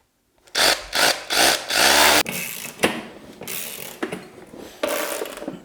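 A Facom ratchet worked by hand while a hot-water radiator is installed: a few quick, close bursts of clicking at the start, then quieter, uneven ratcheting and handling clatter.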